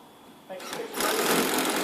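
A power drill drives screws to fix wall brackets, starting with a short lower buzz, then rising into a loud, steady, high whirring drive that runs close by to the end.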